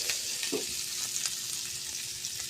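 White onions and garlic fry steadily in hot oil, a dense continuous sizzle with faint crackles and a brief stirring scrape near the start, close and alone.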